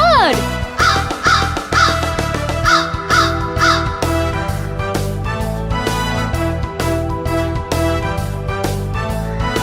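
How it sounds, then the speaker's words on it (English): A big black crow caws in a short series of harsh, repeated calls near the start, set against a steady, loud musical backing with a continuous beat. "Big black crow, you're a noisy bird."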